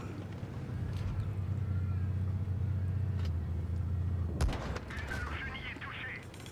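A tank cannon fires once in World of Tanks Blitz, a sharp blast cutting through a steady engine rumble near the end, followed by a fading tail.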